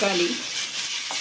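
Chopped radish with garlic sizzles and is stirred in a pan for a Tamil-style radish chutney, a brief steady frying hiss while a voice speaks briefly.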